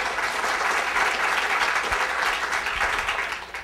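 Conference audience at an aging-education awards session applauding an award announcement, with steady dense clapping from many hands throughout, fairly loud, tapering slightly at the end.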